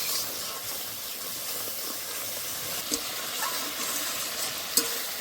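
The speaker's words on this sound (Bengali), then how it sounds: "মশলা ভালো করে কষে নিয়েছি, দেখুন উপর থেকে তেলও ছেড়ে দিয়েছে।" Spice masala sizzles and fries in oil in a pan for a soybean curry, giving a steady, close hiss with a few soft stirring clicks.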